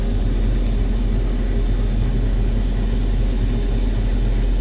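A forage harvester's heavy engine drones steadily with a deep, constant rumble while chopping corn, loud and unchanging throughout.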